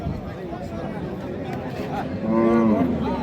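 Cows low at the Raniganj cattle market in Ghoraghat, Dinajpur, on a Thursday market day. A drawn-out moo rises near the end over steady crowd hubbub and talk.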